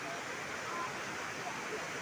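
Water pours down the Makeli Ella waterfall, heard as a faint, steady broadband rush with no breaks, fairly distant and even throughout.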